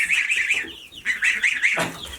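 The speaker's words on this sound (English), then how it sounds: "We've got goslings right over here" Goslings give a run of high, thin peeping calls, several overlapping chirps close by, with no one speaking.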